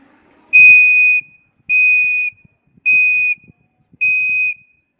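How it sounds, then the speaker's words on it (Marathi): Four long, steady, shrill scout whistle blasts, evenly spaced with short pauses between them, loud and close. "ही जी दीर्घ शिट्टी आहे मोठी शिट्टी जास्त वेळा वाजत असेल"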